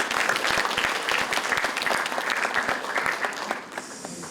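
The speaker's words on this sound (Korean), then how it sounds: "박수 부탁드립니다" Audience applause fills a hall at the opening of a sports forum and talk concert, a dense, steady wash of many hands clapping that stays loud and even for several seconds before thinning out.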